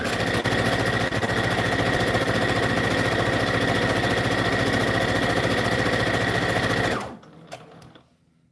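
A sewing machine stitches satin ribbon-trimmed anklets with a loud, steady, fast mechanical whir. It runs continuously for about seven seconds, then stops abruptly and leaves near silence.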